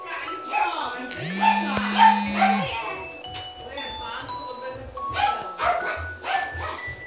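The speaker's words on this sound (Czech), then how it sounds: "Někdo přišel, takže pes se začal vyštěkávat." A doorbell chimes indoors and a house dog starts barking in short, loud bursts, with people talking over the commotion.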